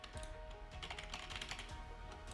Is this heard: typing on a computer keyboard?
yes